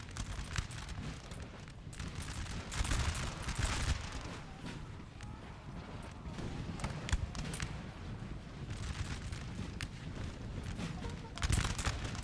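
Musket lines firing in Napoleonic Total War 3 battle, ragged volleys of crackling shots popping in clusters at mid distance, with louder bursts around the third and eleventh seconds over a continuous battlefield din.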